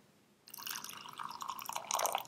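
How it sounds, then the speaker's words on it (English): Boiling water for matcha falls into a tea bowl after a short quiet start, giving a soft, close trickling and splashing with a brighter burst near the end. "So I have the boiling water in the bowl."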